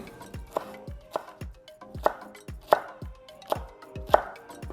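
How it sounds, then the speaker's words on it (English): Steady, evenly spaced knife chops through vegetable strips on a cutting board, each stroke a sharp close thud, about seven in under five seconds, with no talking. "Put a nice chop on them."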